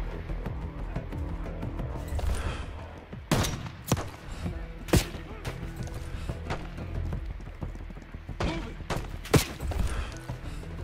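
Gunfire in Call of Duty: Black Ops 6, with scattered sharp shots cracking at irregular intervals over steady background noise and faint talk.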